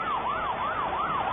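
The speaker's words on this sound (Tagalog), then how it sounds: "Ambulansya na yan, Mel." Ambulance siren on a Manila street during a hostage standoff, a steady wailing rise-and-fall tone repeating about three times, loud and continuous.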